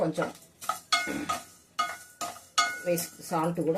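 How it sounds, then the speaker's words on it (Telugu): Curry leaves and spices dry-roasting with salt in a pan, scraped and stirred in a few separate bursts of metallic clinking and scraping with short pauses between, close and fairly loud. "ఇవన్నీ సెమీలోనే పెట్టుకొని వేయించుకోవాలి"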